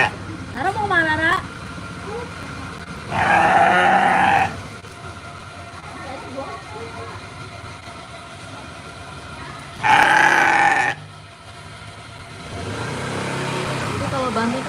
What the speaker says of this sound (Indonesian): ya bukan banteng, ini domba